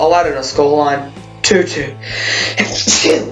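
A single sharp sneeze bursts out mid-sentence during a football prediction talk, loud and close, with a man's speech continuing around it.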